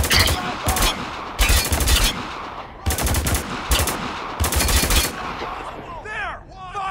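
Rapid automatic gunfire in the shooter video game Spec Ops: The Line, loud bursts of machine-gun fire repeating in several volleys with shouted voices between them.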